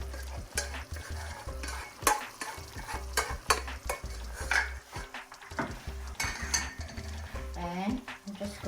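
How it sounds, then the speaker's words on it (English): Canned cooked tomatoes go into meat in a pot for karahi gosht, heard as wet stirring and scraping with clinks of a utensil against the pot over a low background hum. "I'm going to add this cooked tomatoes inside my meat"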